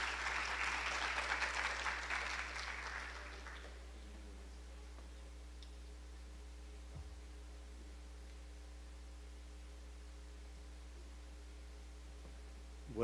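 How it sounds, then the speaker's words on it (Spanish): Audience applause welcoming a speaker at an academic literature conference, a dense burst of clapping for about four seconds that fades out, leaving a quiet room with a steady mains hum. "Recibamos con un fuerte aplauso"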